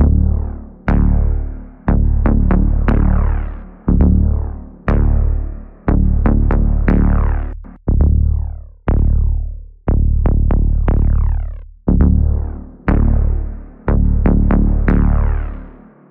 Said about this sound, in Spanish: Estoy aplicándole reverberación a la sección media, no a la sección baja.